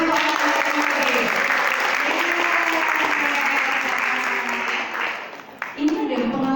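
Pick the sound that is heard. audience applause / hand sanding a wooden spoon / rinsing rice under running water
audience applause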